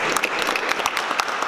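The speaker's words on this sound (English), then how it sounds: "I give a round of applause for Brian for showing up today." Brisk applause from a crowd at a community panel on gentrification, with sharp individual claps standing out from the close, energetic wash of clapping.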